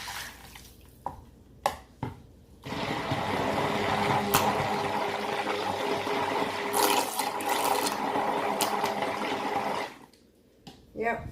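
Water runs steadily from a tap over a soap-making utensil for several seconds, splashing and rinsing, with brief clinks before and after the flow stops.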